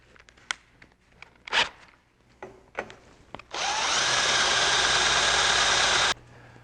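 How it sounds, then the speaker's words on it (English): A few sharp knocks and clicks of handling give way to a loud, steady three-second whir of a power drill driving a step bit through a motorcycle gas tank mount, then it stops abruptly. "now we'll move over to a step bit"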